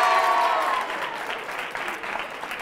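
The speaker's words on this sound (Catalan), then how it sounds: "Un aplaudiment també per ells." A studio audience gives steady, moderately loud applause for a school team on a Catalan letter-quiz game show. It starts over a fading tone and tapers slightly.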